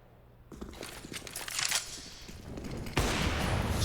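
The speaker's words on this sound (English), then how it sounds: "Shot through the wall." Gunfire in the video game CS:GO at a professional esports match, shots fired through a wall: a quick cluster of sharp bursts over a low game background, ending in a louder sustained burst.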